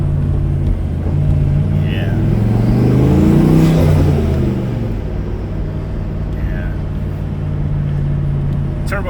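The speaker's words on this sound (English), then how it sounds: "Turbo on this thing has never really been stealth." A turbocharged Ford Mustang idles and rolls over speed bumps, its engine rumbling up briefly in a revving surge before settling back to a steady hum, with faint turbo whistles heard over it.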